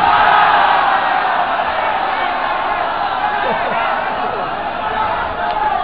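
A large crowd roars and chants slogans in unison, a dense continuous wall of voices that stays loud and close throughout with little pause.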